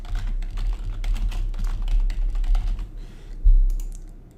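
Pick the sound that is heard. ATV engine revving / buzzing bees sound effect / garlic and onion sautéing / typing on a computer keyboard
typing on a computer keyboard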